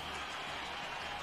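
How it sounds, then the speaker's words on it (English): A crowd applauding after a martial arts final in the game Trails in the Sky, a brief, even wash of clapping at moderate distance with no talk over it. "let's hear a big round of applause for the victors"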